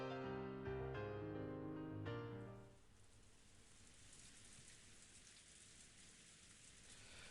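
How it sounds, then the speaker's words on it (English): Rain falls as a game sound effect, a steady soft hiss of drops that fills the background. Fading music plays over it for the first few seconds, then the rain continues alone, faint and even. "No sound but that of the falling rain filled the room."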